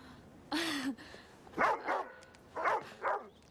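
A dog barks four times in two quick pairs, sharp and fairly close, after an earlier high whine or whimper, with no one talking.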